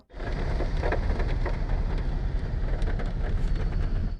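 Heavy rain pours down steadily in a dense, loud wash of hiss and drumming, continuous and close, with no voices.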